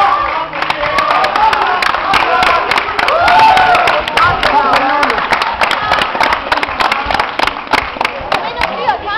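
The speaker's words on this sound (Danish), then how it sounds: "Lad med at klappe, når du står og hopper." Hands clapping at a 2009 Ashihara karate championship bout, a dense steady stream of claps from a crowd, loud and continuous throughout, with shouting and cheering mixed in.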